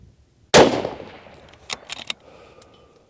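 A single sharp report from a rimfire rifle fired outdoors at a range at a wind-swung steel target, loud and close with a decaying tail, followed by a few fainter ringing hits and clicks.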